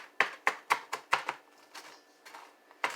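Metal dough cutter chopping onion on a cutting board: a series of sharp, close, rhythmic chops, about a dozen in quick bursts with brief pauses, no talking.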